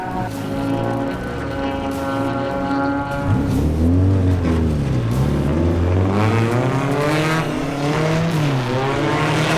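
A race car runs flat out on a track with a big banking during night qualifying laps, its engine droning loudly and rising and falling in pitch with the revs. No voices are heard.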